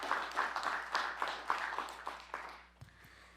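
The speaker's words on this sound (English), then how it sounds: "we have to really give a round of applause for our youth scholarship recipients as well as the members of our youth council" An audience applauds youth scholarship recipients at a city council meeting, a short burst of steady clapping that thins out over about three seconds.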